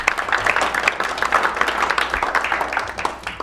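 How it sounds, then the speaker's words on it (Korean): Audience applause at a Korean political party event greeting a guest, a lively, continuous crackle of many hands clapping close by with a quick irregular rhythm. "큰 박수로 환영해 바랍니다."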